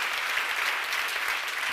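A church congregation at a seminar applauds steadily, a dense, even wash of clapping that holds at the same level throughout the short moment.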